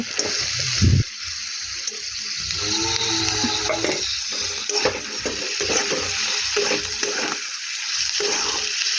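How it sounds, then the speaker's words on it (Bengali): Fish fries with onions in a pan, making a steady loud sizzle with scraping stir sounds and a sharp clatter near the start, close up and with no voices. "মাছটা পেঁয়াজে ভাজা হচ্ছে"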